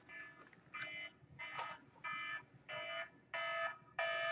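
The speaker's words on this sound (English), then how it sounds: "My alarm's ringing." An alarm sounds in repeated electronic beeping bursts, about seven evenly spaced pulses that grow slightly louder, heard alone at a moderate level.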